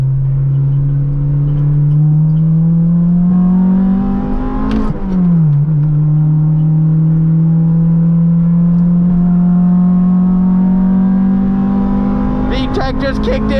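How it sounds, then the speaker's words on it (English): A Honda Integra engine revs as VTEC kicks in, a loud, close drone climbing steadily in pitch, dipping briefly at a shift, then building again toward the end. "VTEC just kicked in, bruh."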